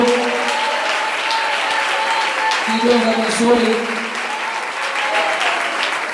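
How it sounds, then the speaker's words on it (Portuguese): Loud, sustained applause fills a church as the whole congregation claps together, thick and even throughout, while a voice speaks over it near the microphone. "E toda a igreja aplaude a Cristo."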